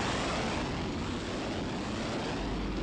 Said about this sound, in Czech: povoluje přistání letounů třetí generace MiG-23